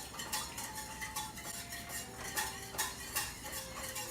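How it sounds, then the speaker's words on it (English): A whisk beats cheesecake mixture in a saucepan, with a rapid, rhythmic metallic scraping and clinking against the pan at moderate volume and no talking. "we're going to whisk it constantly just until everything is melted"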